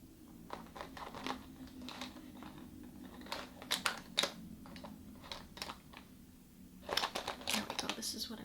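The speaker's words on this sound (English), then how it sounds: "Alright, I'm going back through my bag" Soft rummaging through a makeup bag with crinkling, tapping and rustling of small items, close and intimate, gathering into louder bursts of clatter near the end.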